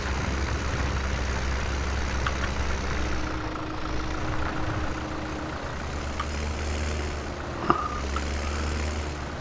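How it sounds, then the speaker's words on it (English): A Massey tractor engine idles steadily in a farming video game, a low continuous rumble close by with no talking over it. "Pull the back off the tractor."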